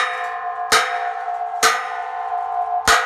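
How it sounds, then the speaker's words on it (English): Three hard hammer strikes on a metal car garage frame, each a loud clang that rings out like a gong and slowly decays before the next blow. "with some good hammer hits, we might be able to get it to fall in"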